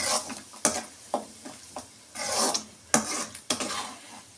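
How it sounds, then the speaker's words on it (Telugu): Curry leaves and masala are stirred in oil for a bitter gourd curry, with a soft sizzle broken by repeated scraping strokes of a spoon against the pan, close and moderately loud, no talking. "Curry leaves వేసేస్తాము. దీన్ని కాసేపు బాగా వేగనిస్తాం."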